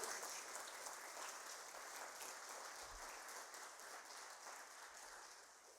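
A church congregation applauds in praise to the Lord during a Spanish-language service, heard as a faint, distant, continuous wash of clapping that gently tapers toward the end.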